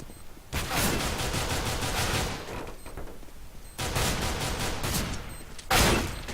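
Shotgun blasts and gunfire from a tactical team-based shooter video game come in three loud, dense bursts of rapid shots, the last one short and sharp.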